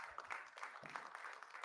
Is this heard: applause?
yes